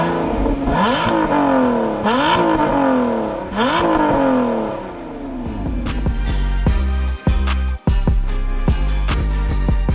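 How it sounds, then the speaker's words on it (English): A 2023 Lotus Emira First Edition's 3.5 V6 with manual gearbox revs hard three times in rising sweeps, then settles to a near, loud idle broken by sharp blips and crackles. "the Emira First Edition proudly wears a V6 engine. And let's listen to how it sounds."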